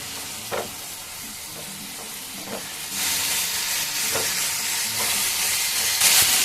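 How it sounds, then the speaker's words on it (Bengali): Rice frying in a pan with soy sauce gives a steady, close sizzle that swells louder and hissier about halfway through, with a few light scrapes of a utensil scattered across it and no voices. "সয়া সস দিয়ে একটু ভাজবো।"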